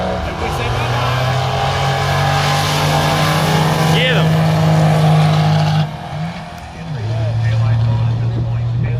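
Diesel Silverado trucks, including a small-block A1 Silverado, roar at a drag race, a loud sustained engine drone that dips briefly before resuming, with excited people talking over it.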